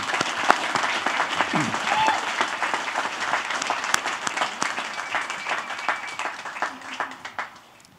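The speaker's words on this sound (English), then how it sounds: "Please give these students a well-deserved round of applause." A commencement crowd at the 2018 Adrian College spring ceremony applauds the students, moderately loud clapping that holds steady and then thins toward the end, with faint voices mixed in.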